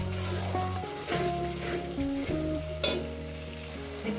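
Mutton pieces frying in a pan for a potato mutton curry with turmeric and cumin powder, a loud continuous sizzle with stirring, heard under a background melody.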